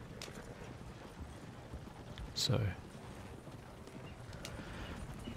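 Horse hooves clip-clopping in the Red Dead Redemption 2 video game, a soft steady footfall pattern under quiet game ambience, with a brief louder burst midway and someone speaking briefly.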